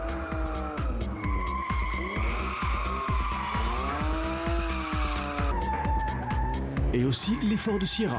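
Tires squeal and skid as a tuned car, such as a BMW or Ford Sierra prepared for sliding, drifts loudly and steadily over several seconds. The engine howls in a sustained, wavering note, and someone narrates over it.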